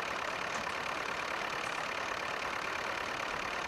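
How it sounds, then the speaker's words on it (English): Power Major tractor engine idling steadily at close range, a continuous even rumble with no breaks and no voices over it. "the tractor that we chose to replace it was this Power Major"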